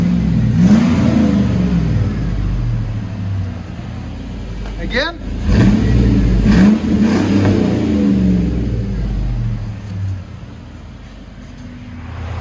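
A 2000 GMC Sierra with a 5.3L V8 and Flowmaster Flow FX exhaust idles with a deep throb, then revs sharply and settles back to a loud rumble, and one brief spoken word comes over it.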